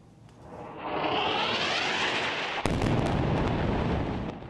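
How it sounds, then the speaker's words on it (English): Heavy night barrage of Israeli airstrikes and artillery fire over Gaza City, heard as a swelling distant roar with a sharp blast partway through, then continuing rumble before fading. "By night, Israeli airstrikes and artillery fire kept up a heavy barrage in Gaza City."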